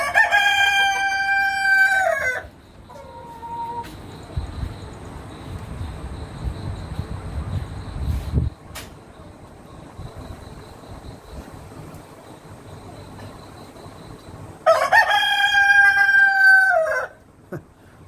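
A hybrid-variety rooster crows twice, near and loud, with long sustained calls at the start and end, separated by a stretch of quieter farmyard clucking and rustling.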